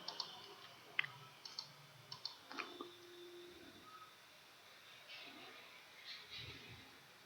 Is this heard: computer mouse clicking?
yes